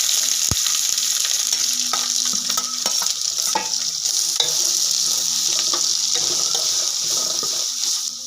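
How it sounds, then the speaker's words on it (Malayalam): Onions with garlic and fennel seeds frying in hot oil, a steady bright sizzle throughout with occasional stirring clicks and a faint spatter, close and continuous with no talking. "നമുക്ക് സവാള ഇട്ടേക്കാം."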